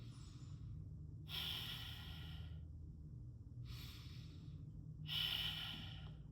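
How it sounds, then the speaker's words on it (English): Three deep breaths drawn through the chest in a quiet room, each inhale a loud airy rush lasting about a second, separated by silent pauses, with no talking. "For demo purposes, they will breathe like this."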